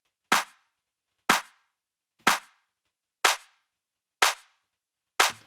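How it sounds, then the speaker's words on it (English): Six crisp, punchy layered clap drum hits for a music production, evenly spaced about a second apart, each with a quick decay into silence. "This would have been a layered clap."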